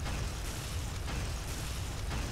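A power node explodes in Unreal Tournament 2004 with a sustained, loud roar of blast noise that fills the whole moment and then tapers slightly, with no voices.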